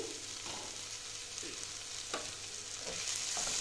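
Ridge gourd (chichinga) fries uncovered in a pan, giving a steady, close sizzle with a few soft scraping stirs scattered through it.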